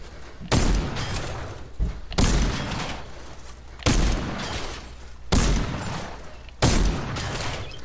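Fortnite gunfire in a Creative mode map, five loud heavy shots spaced about a second and a half apart, each with a booming onset and a sustained noisy decay.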